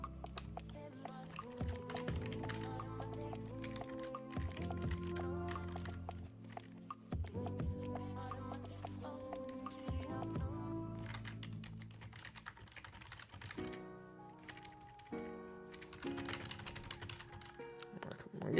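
Typing on a computer keyboard in bursts of rapid key clicks, close and fairly quiet, with music playing along under it.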